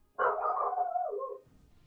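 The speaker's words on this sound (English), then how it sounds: "my dog is just going nuts" A pet dog at home lets out one drawn-out, excited bark that rises into a howl, lasting over a second. It sounds fairly close and stands alone, with only quiet room noise after it.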